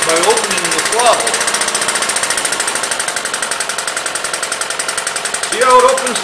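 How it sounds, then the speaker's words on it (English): A Webster engine with a governor runs under load on its flywheel, giving a rapid, steady mechanical clatter close to the listener. Someone talks over the engine as it keeps running. "Now I'm going to put a load on the flywheel, and when I do, it'll try to slow the engine down."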